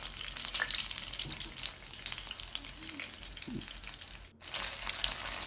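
Brinjal bajji deep-fry in hot oil and are gently stirred, producing a steady bubbling sizzle with occasional soft clinks and scrapes, broken by a brief dropout near the end.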